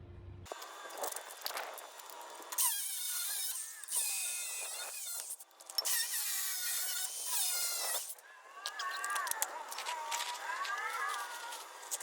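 Universal U-bolts on a bus rear end are cut off with a harsh, high-pitched tool in several sustained bursts separated by short pauses, close up.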